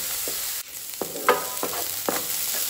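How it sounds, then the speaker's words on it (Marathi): Onion frying in a pan until pink gives a steady close sizzle, with a few light scrapes of stirring on top and no voices. "कांदो जो आसा पळय न्ही तो आमकां बरो पिंक जाय मेरेन पिंक असो टर्न जाय मेरेन इतून भाजून घेवपाक जाय"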